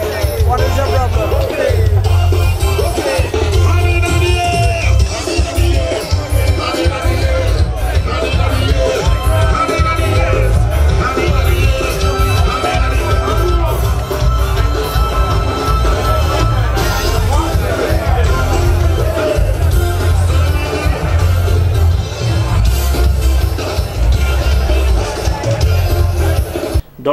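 Crowd at a street party with a live band, dense loud hubbub of many voices, shouts and cheers over pounding, continuous band music for the whole stretch.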